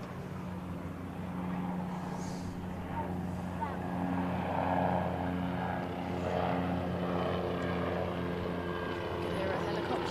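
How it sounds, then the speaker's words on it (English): A helicopter passes over a cricket ground during a county match, its steady engine and rotor drone rising and falling in the distance, with commentators talking over it. "Hear a helicopter going over the ground."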